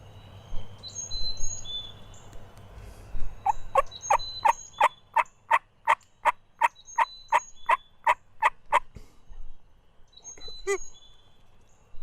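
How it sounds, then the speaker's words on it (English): Wild turkeys gobble in the distance about 70 yards away on a foggy morning, one bird letting out a long rapid run of rattling calls, with fainter calls and chirps from others around it in quiet surroundings. "Gobblers on the ground right out here about 70 yards."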